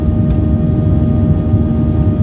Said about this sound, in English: We've been cleared for departure.